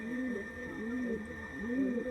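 A short-bodied, open-tailed Pakistani high-flying pigeon coos close by, three rolling, rising-and-falling phrases over a steady faint electrical hum.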